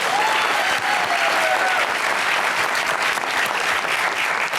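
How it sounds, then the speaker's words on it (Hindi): Steady applause from a studio audience on a Pakistani television comedy show, loud and continuous with faint whistles over the dense clapping for the full duration. "तालियां।"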